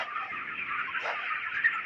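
Broiler chickens about 26 days old clucking softly in a steady murmur, a brood of birds close by with a few sharper calls near the end.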